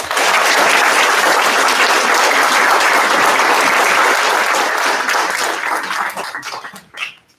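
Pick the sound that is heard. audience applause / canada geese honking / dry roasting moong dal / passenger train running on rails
audience applause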